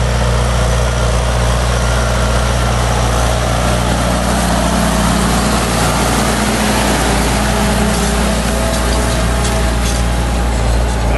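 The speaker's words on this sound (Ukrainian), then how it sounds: "Ось зараз будемо бачити, як трактор приорюється, трактором приорюється зелена маса." A tractor pulls an Umanfermmash PON-3 reversible plough, turning green mustard into the soil. Its engine gives a loud, steady, low drone that runs unbroken throughout, close to the listener.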